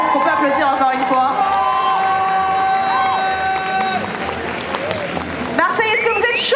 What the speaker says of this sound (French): qu'on peut applaudir encore une fois